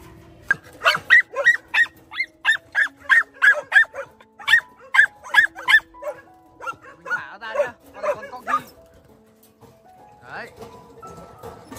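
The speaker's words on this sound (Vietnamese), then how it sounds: "đây là con chó chân cừu" A 'chân cừu' dog barks close by in a rapid, regular series of about fifteen sharp barks, which taper into softer yips and whimpers before trailing off.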